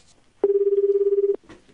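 Telephone ringback tone heard while placing a call: a single steady electronic purr of about one second, loud and close, with faint talk around it.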